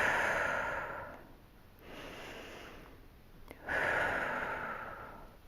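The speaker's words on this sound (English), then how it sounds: "3 deep breaths" Slow, deep breathing held in a standing warrior one yoga pose, two long soft airy breaths with a quiet pause between, close and gentle with no talking.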